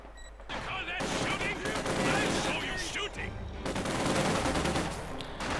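Rapid rifle and machine-gun fire from Panzer tanks and Soviet conscript infantry trading shots at long range in Company of Heroes 2, a dense continuous fusillade with overlapping bursts and impacts throughout.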